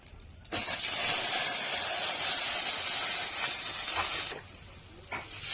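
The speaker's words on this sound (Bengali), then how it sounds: "জিরেটা একটু ভাজা হবার পর জল দিয়ে দিতে হবে" Water poured into a pan of hot oil with fried cumin seeds bursts into a loud, steady steam hiss lasting several seconds, then drops back to quieter sizzling with no talking.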